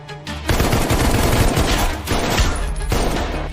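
Loud, rapid bursts of automatic gunfire rattle continuously, with brief pauses between volleys, during an animated zombie fight in a subway.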